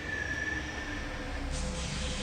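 Riding a train in the video game The Longest Journey, a steady rumbling rail-car drone fills the background with a thin squeal of wheels, growing a touch brighter and hissier toward the end.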